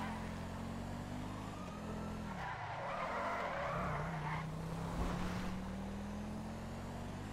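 A car driven in GTA 5 with a police mod, a continuous engine drone rising and falling in pitch with a brief tire skid in the middle, steady and fairly loud, no speech over it.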